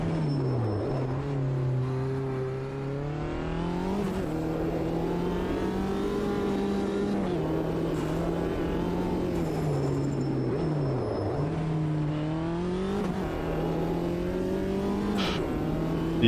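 Race car engines rev continuously in the RPM League racing game, a loud sustained drone with pitch rising and falling through gear changes and occasional sharp blips, with no talk over it.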